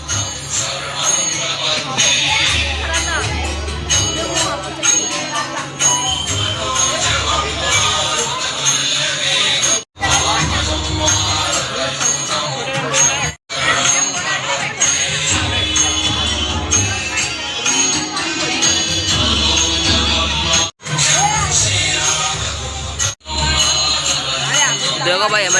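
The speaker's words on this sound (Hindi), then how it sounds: "देखो भाई हमारे बॉक्सर भाई की गणपति है, भीड़ देखो।" Loud, constant crowd din packs a boxer's Ganpati pandal in Ulhasnagar, many overlapping voices close by with a few brief dropouts, while someone talks over it.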